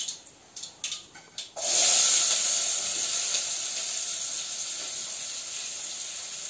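Chopped onion and curry leaves hit hot oil with a sudden loud, steady hiss and sizzle that holds close and bright, after a few brief softer kitchen clatters.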